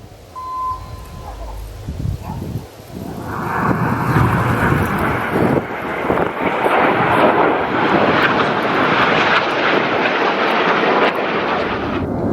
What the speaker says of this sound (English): The jet 6 feet apart at 400 miles an hour in that big Vixen shape.